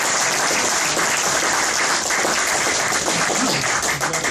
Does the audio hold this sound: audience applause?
yes